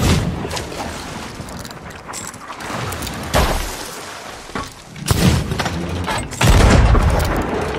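Cannons fire from a pirate ship in Sea of Thieves, a string of heavy booms and crashing impacts coming at uneven intervals with rumbling in between, loud and close, with no talking.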